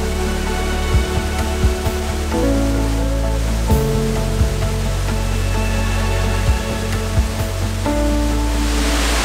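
A steady, powerful rush of a waterfall near Luang Prabang, Laos roars continuously, loud and close, with a constant hiss and low rumble.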